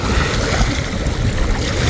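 Sea waves wash onto a beach on the Barguna coast in a continuous, loud roar, with wind buffeting the microphone and no voices.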